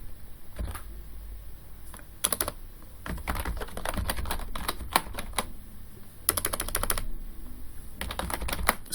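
Bursts of rapid clicking on a computer keyboard, in irregular clusters of keystrokes with short pauses between them, close and clear with no talk.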